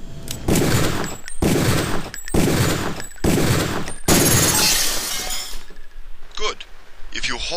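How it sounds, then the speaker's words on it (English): Pistol fire at practice targets in the video game Deus Ex: four loud, evenly spaced shots with sharp breaking impacts, followed by softer glassy debris and clinks as a target is destroyed. "Release the first target and take a few shots with one of the pistols until it is destroyed"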